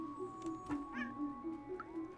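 A cat meowing in the video game Stray, several short, repeated meows over a steady, humming game soundscape, fairly quiet and close, with no speech.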